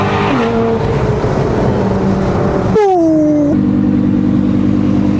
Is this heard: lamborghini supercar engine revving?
yes